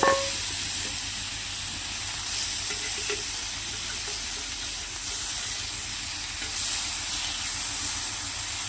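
Pitali fish frying in hot oil, a steady close sizzle and hiss running continuously with small crackles and pops throughout, no talking.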